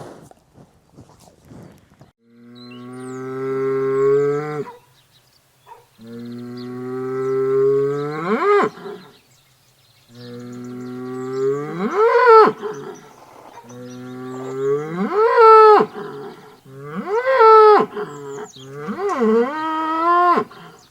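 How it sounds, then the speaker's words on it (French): A bull mooing repeatedly, long deep bellows rising in pitch at the ends, close and loud, several calls in a row separated by short pauses. "il arrête de meugler dès qu'il me voit"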